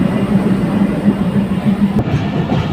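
Train at Chulkati railway station in Bangladesh: a steady loud rumble of a running train with rolling low-end noise, heard continuously and close throughout.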